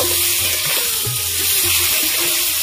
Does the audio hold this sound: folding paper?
no